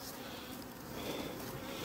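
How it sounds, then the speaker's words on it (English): Honey bees buzz around a hive in a continuous, close, steady drone that holds for the whole stretch, with no voices. "I could shake these bees off"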